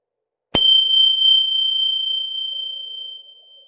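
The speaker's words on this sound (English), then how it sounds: "As I ring the bell, just listening to the beginning and middle and end sound of the bell." A single mindfulness bell is struck once in a classroom, sounding a clear, pure ringing tone that sustains and slowly fades away in a quiet room.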